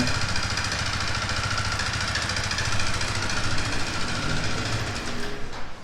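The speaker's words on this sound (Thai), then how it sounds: "เสียงเพราะๆของลูกสูบและแหวน" A Yamaha R15 motorcycle engine runs close by with worn piston and ring noise, a loud steady rattling clatter that continues evenly for several seconds, with no talking.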